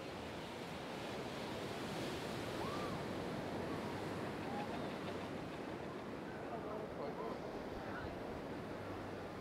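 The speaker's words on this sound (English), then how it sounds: "you can hear the surf" Ocean surf rolls in on the beach at Tybee Island, Georgia, a continuous wash of breaking waves with some wind noise, steady and moderately distant.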